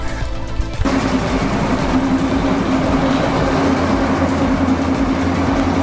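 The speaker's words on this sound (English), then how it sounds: "Just on the way back on the train now" A train in Dalat, Vietnam rumbles steadily on the rails with a sustained low hum and rhythmic clicking, loud and close, after a brief quieter moment.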